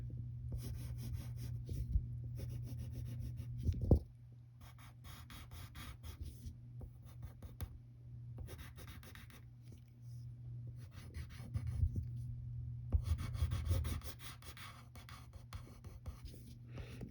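Pencil sketching a cartoon character's hand on paper, a steady close scratching of graphite strokes in bursts with short pauses, over a constant low electrical hum.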